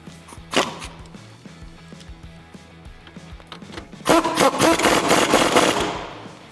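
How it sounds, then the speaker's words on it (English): An impact gun tightens a bolt on the rear suspension of a 2006-2022 RWD Dodge Charger during a lowering spring install, with a brief rattle early on and then a loud, sustained burst of hammering that lasts about two seconds. "we'll use our impact gun and tighten that up"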